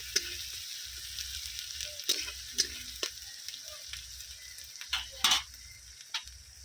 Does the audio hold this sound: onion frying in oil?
yes